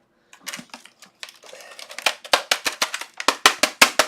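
Sharp plastic taps and rattles on an upside-down computer keyboard, starting sparse and quickening into a fast, regular series of close knocks.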